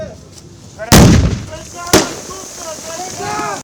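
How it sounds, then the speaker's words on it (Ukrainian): Explosions and gunfire boom through a military training obstacle course, two sharp heavy blasts about a second apart standing out loudly over a rumbling background. "Усі ці дії військовослужбовців супроводжуються постійними вибухами, підривами мін, розтяжок, стрільбою"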